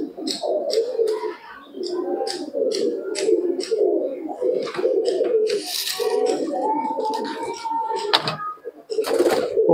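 Domestic pigeons coo continuously at a rooftop loft housing a large flock, with overlapping throaty coos near and loud, broken by a few wing flaps and sharper chirps.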